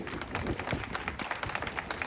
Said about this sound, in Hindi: मैं चाहूंगा जोरदार तालियां इनके लिए एक बार आप लोग बजाइए।